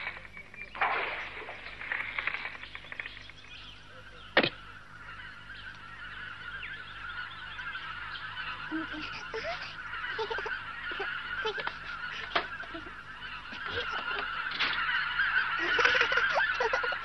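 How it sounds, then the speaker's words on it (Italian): Birds returning in spring, a flock of geese honking repeatedly at mid distance over a steady outdoor background, with sharp louder calls now and then and no voices. "Gli uccelli sono ritornati."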